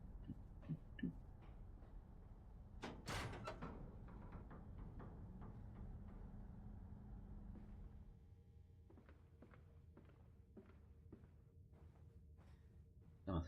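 A door opens in the horror video game Amnesia: A Machine for Pigs: a sharp, loud burst near the start, followed by a low, rumbling ambience that drops quieter partway through, with scattered faint knocks.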